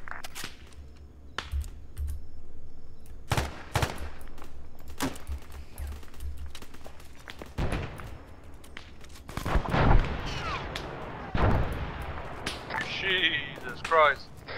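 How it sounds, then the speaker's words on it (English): Missile launch and explosions in a military video game, with repeated sharp booms and bursts of gunfire and impacts at irregular intervals, heavy and close, while players talk over radio throughout. "Alright, missile away."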